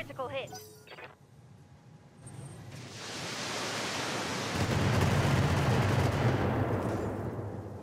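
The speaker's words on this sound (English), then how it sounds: "Everyone shooting Ronin." Weapons fire in the BattleTech mech strategy video game, a broad roaring barrage that swells and sustains loudly after a few quieter seconds, with brief clicks at the start.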